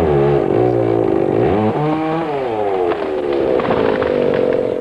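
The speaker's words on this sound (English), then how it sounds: "The sound of chainsaws" Chainsaws cutting fallen trees after an October snowstorm, engines droning loud and continuous with rising and falling revs throughout, close by, no talk.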